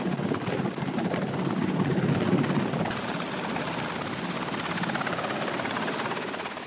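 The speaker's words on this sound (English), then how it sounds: "One of the main features of DDGs is their Seahawk helicopters." A Navy Seahawk helicopter operates on the flight deck of a destroyer at sea. Its rotor makes a loud, steady, close whirring roar throughout.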